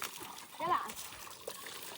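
Water splashes and trickles into a blue plastic drum used as a rooftop bathing tub, short sloshing bursts under a child's and adults' voices nearby.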